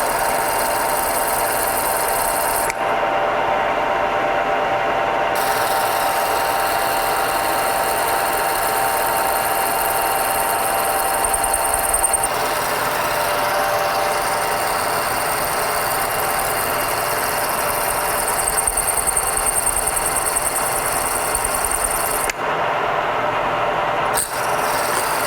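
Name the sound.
drilling holes in lathe tailstock with 11/32 drill bit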